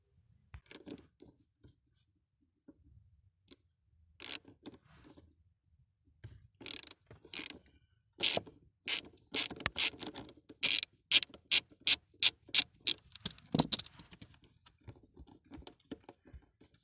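A wrench works loose the battery terminal on a Mercedes B-Class car, with scattered faint clinks followed by a run of sharp, evenly paced ratcheting clicks up close, then quiet.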